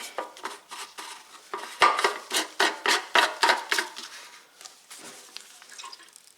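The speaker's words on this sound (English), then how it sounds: "So, swish it around, dump it out." Alcohol sloshes rhythmically inside an Ariens snow blower gas tank as it is swished back and forth, about a dozen quick splashing surges, close and moderately loud without talk.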